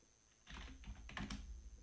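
Quick bursts of keystrokes on a computer keyboard as a command is typed, close and crisp, starting after a short quiet lead-in with no talk.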